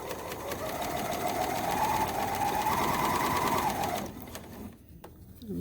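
A serger fitted with an Elasticator foot runs steadily while stitching and stretching elastic, a close continuous whirring hum that stops abruptly near the end.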